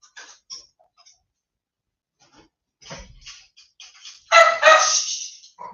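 Dogs being fed give a few short, sharp barks at a moderate distance, with quiet gaps and faint clicks in between, then a louder cluster of close barks toward the end.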